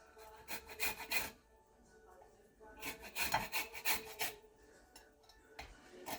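Lemon zest grated off a lemon on a metal grater, heard as repeated raspy rubbing strokes in two bursts separated by a pause, close and moderately loud, with no talking.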